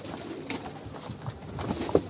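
A pigeon coos softly and close by, a short low throaty call rising near the end over quiet background noise.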